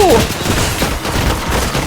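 Rapid bursts of automatic gunfire in the video game Fortnite crackle continuously, loud and dense, with a brief tonal blip at the start.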